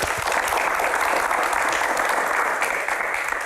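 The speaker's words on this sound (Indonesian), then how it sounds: "tepuk tangan" Audience applause at a Q&A event with a concert promoter in Indonesia, a continuous thick wash of many hands clapping, steady and fairly loud from start to finish with no voices on top.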